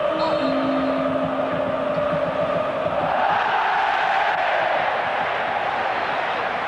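A football stadium crowd at a Juventus versus Inter match roars and cheers, a loud continuous swell of voices that rises midway and holds, with broadcast commentary faint beneath.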